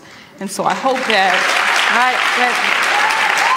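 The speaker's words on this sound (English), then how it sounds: "Claps at the end tonight, please." An audience at a televised congressional forum in Ohio bursts into loud, sustained applause and cheering after a speaker is heard briefly at the start.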